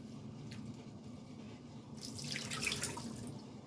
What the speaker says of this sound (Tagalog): hugasan ko lang para mawala na yung alat